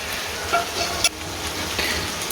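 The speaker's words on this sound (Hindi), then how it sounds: "अब हम इसको अच्छे तरीके से मिक्स करते हैं।" Chicken with turmeric and white cumin powder being stirred and fried in a pot, giving a steady close sizzle with a few sharp scrapes and clinks of the spoon.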